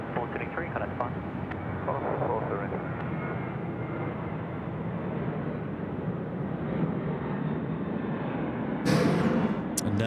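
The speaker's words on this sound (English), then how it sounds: "just coming in there on runway 34 right is a Velocity aircraft" A Velocity aircraft lands on runway 34 right at Sydney Airport at night. Its engines make a steady, muffled roar heard from a distance, with faint voices in the background.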